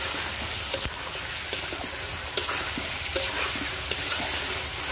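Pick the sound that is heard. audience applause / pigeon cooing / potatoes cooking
potatoes cooking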